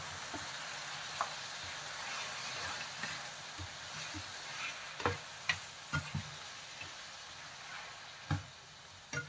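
Shrimp stir-fry with carrots and beans in a pan, a soft, low sizzle under scattered light clicks and taps from stirring, with no voices.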